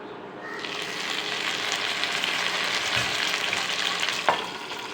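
Pabda fish fry in oil on a pan with a steady, moderately loud sizzle, broken by a couple of brief clinks and stirring bumps near the end.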